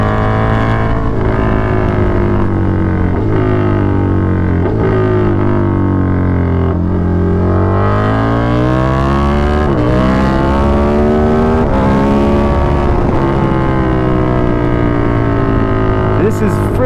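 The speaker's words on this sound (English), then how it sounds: "5th gear and I was pulling and the wheel wanted to come up?" A KTM 1290 Super Duke R motorcycle pulls hard in 5th gear, its loud, close engine droning and rising steadily in pitch with a brief dip and recovery, wind roar constant throughout.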